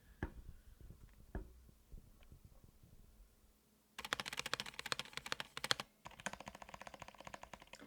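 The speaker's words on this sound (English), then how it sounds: "this spacebar to me sounds like, it does sound like a Corsair or a Logitech or something." Keys on a budget mechanical keyboard are pressed, first as scattered faint clacks and then as dense bursts of loud rapid clicking close to the listener, with no talk.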